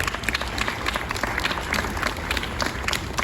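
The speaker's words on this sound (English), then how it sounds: "Let's give him a round of applause." An audience at an outdoor SeaWorld Orlando animal show applauds, a dense, even wash of clapping from a large crowd that holds steady for a few seconds.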